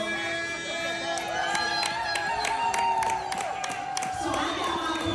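A lively crowd cheers and claps continuously at a comedy show, with shouting voices mixed into the steady roar of applause.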